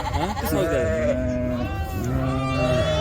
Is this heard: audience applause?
no